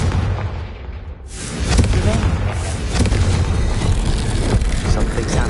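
Confringo fire spell explosion in Hogwarts Legacy: a sudden loud blast erupts and rolls into sustained booming, crackling fire and rumble, close and dense, continuing to the end.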